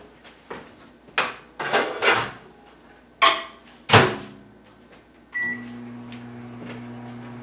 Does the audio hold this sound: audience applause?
no